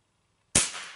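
A single sharp shot from a Benjamin Discovery air rifle firing standard Crosman pellets, sudden and loud after silence, with a short decaying tail.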